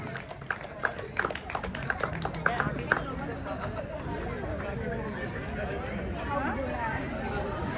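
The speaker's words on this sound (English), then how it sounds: "The clap should go on." Applause at a closing ceremony for a volleyball and throwball league, with a burst of clapping over the first few seconds that gives way to steady crowd chatter and murmuring voices.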